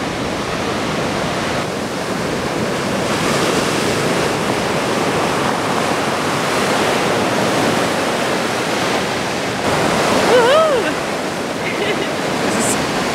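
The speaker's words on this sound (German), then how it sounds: "Es sind so hohe Wellen." High waves crash and roar steadily along the Black Sea shore, a dense, continuous surf wash at close range that holds through the whole stretch, with a brief high whistle-like sound partway through.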